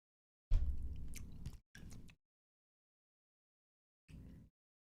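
Close, loud chewing with crunchy, squishy bites: one longer burst, a short second burst, a pause of about two seconds, then a final brief bite against near silence.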